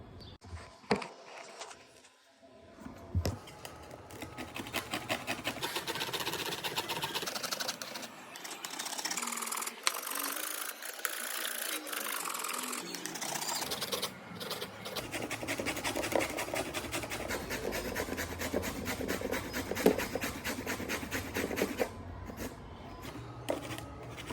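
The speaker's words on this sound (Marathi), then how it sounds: "चला मस्त गाजर किसून देतो मम्मीला हलवा बनवायचा" Carrots grated by hand for halwa make a continuous rapid scraping, steady and close throughout with a few brief pauses and knocks.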